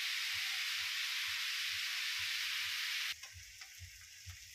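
Vegetables for restaurant-style chow mein fry in a pan with a loud, dense hiss under a soft rhythmic scraping pulse. The hiss drops away abruptly, leaving quieter sizzling and stirring.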